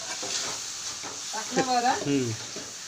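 Hot oil sizzles steadily, a soft crackling hiss, while a person speaks over it.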